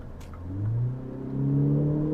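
A Mini Cooper JCW convertible's engine pulls hard, its note climbing smoothly through two rising surges that grow louder and steadier, close and clear with no talk.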